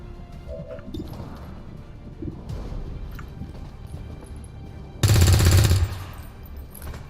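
Rifle shots go wide in XCOM 2 Long War 2, heard as a single loud, sharp burst of gunfire lasting under a second, standing out clearly over quieter game sounds and faint clicks.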